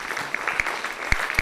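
A small audience claps for a presenter named Jimmy at the end of a research talk, a soft, even patter of applause with a few sharper individual claps standing out.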